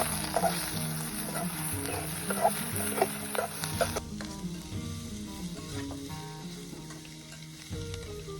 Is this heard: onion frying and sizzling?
yes